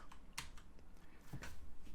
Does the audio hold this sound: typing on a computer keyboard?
yes